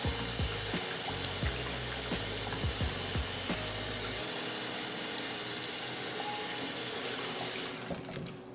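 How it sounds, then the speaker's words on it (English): Tap water runs steadily over a makeup brush being rinsed at a sink, a continuous hiss with a few clicks and knocks early on before it thins out at the end. "I'm just gonna go ahead and run some water on that."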